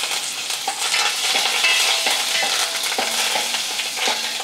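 Mustard seeds, cumin, dried red chillies, garlic and curry leaves crackle and sizzle in hot oil, a bright steady frying hiss with scattered pops and stirring, close up and with no talk.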